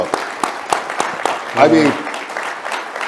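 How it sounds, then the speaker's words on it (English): Scattered applause from an audience for Native American runner Billy Mills, with someone speaking briefly over the clapping partway through. "let me give you a round of applause"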